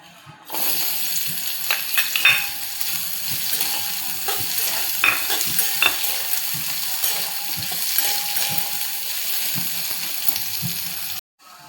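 Thinly sliced onion fries in oil in a kadhai, a loud continuous sizzle with occasional stirring scrapes, steady throughout before cutting off at the end.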